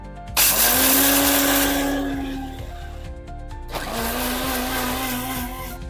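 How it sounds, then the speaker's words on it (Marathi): A mixer grinder whirs loudly as it grinds peanuts, cumin and green chillies. It runs in two bursts with a short pause between them. The motor pitch drops as the load settles. "पाणी घालून हे आपल्याला एकदम बारीक वाटून घ्यायचंय"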